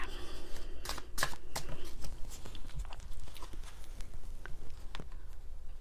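Tarot cards shuffled and drawn by hand, a run of close, crisp riffling slaps and flutters with sharp card snaps early on, continuing with quieter rustles; no speech.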